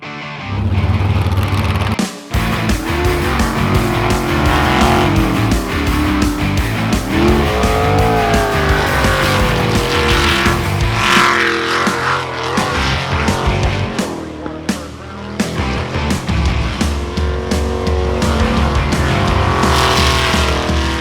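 Race cars roar continuously and loudly at close range, engines revving with intermittent tire squeals and a brief drop in the noise partway through.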